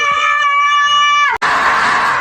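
Loud, sustained high-pitched screaming from several people riding a Ferris wheel in Tagaytay, near the top, cut by a brief dropout and then a burst of wind-like rushing noise.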